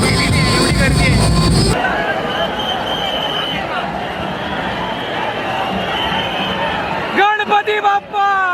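A dense, loud crowd packs Ganesh Galli in Mumbai during the Ganpati arrival procession, a constant roar of voices and babble that shifts to closer chatter and shouting near the end.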